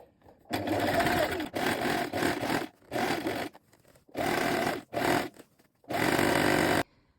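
A sewing machine runs in five separate bursts, each about a second long with short pauses between, stitching a second gathering line on a dress. It is loud and close, with no voices.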